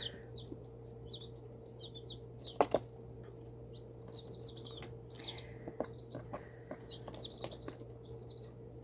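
Rhode Island Red baby chicks peep and chirp in a brooder, with repeated short high calls scattered across the clip over a steady low hum, plus a brief louder rustle or flutter near the middle.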